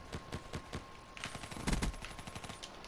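Gunfire in a Call of Duty Black Ops 3 multiplayer match, a faint series of irregular shots and short bursts, some sounding distant and a louder cluster in the middle, with no talking.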